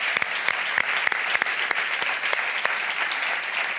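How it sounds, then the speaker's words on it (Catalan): A studio audience at a live comedy show breaks into strong, sustained applause, dense clapping filling the whole stretch with no voices on top. "un fort aplaudiment per ells"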